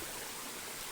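Water rushes continuously through a stream in the forest, a dense, even hiss of flow up close with no pauses and no voices.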